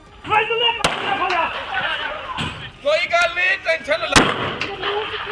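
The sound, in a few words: gunfire in a recorded video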